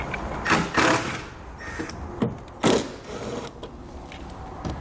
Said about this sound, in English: We're going to use a T30 Torx socket to remove it.